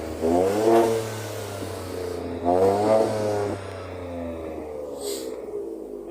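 A Ford Focus RS engine revs in two strong bursts, rising and falling with a deep rumbling harmonic tone, then settles into a steady idle close by.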